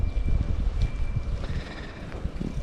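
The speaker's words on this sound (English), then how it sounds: "I don't know about the audio, but it might be really windy because it's very, very windy." Strong wind gusts buffet the microphone outdoors during a bicycle ride, a continuous low rumbling roar with no speech.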